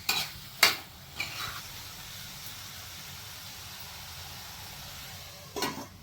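Chicken curry being stirred in a cooking pot, a few sharp scrapes and clinks of a spoon against metal near the start and end, with a soft steady simmer between.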